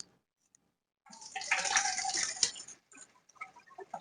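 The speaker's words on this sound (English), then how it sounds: "So I'm going to mix hot and cold water." Tap water runs into a basin as hot and cold are mixed for a patient's bed bath, a steady close pour for a couple of seconds followed by a few splashes and drips.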